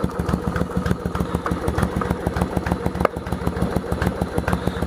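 Yamaha XV1100 Virago V-twin motorcycle with homemade exhaust baffles, running with a loud, close, steady rhythmic thumping that carries evenly throughout.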